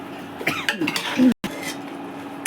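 Potatoes with mushrooms and peas stirred in a pan, a spoon scraping and clanking against the metal in close, irregular strokes with a short silent break midway.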